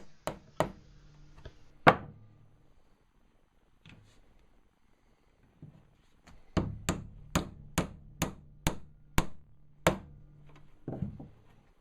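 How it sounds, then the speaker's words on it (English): Wooden dowels knocked into a board with a mallet: a few sharp strikes, a pause, then a steady run of about a dozen evenly spaced, close, loud knocks, with no talking. "Hammer your dowels into only one of the boards with a mallet."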